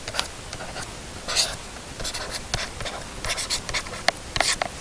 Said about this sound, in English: let's sketch the picture real quick